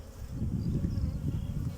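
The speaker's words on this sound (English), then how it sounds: "We've got a lot of bees in here as well." Honey bees swarm around an open beehive, a dense, continuous low buzz close up, steady and loud with no talking.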